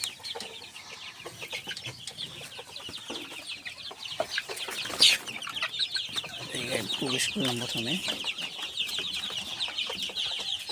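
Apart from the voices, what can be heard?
Sonali chickens clucking in a poultry farm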